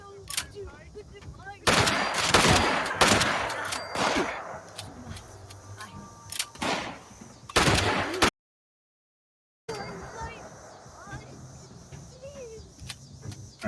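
Repeated shotgun blasts in the video game Fallout 76, several loud booming shots spaced irregularly through the first half, with a short silent gap before ambient game noise resumes.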